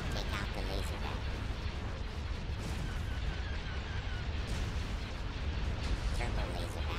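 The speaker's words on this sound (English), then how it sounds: "Turbo laser battery destroyed." Turbolaser battery explosions in the Star Wars Republic at War video game rumble in a continuous, dense barrage of booms and crackling blasts, with game voices speaking over the din.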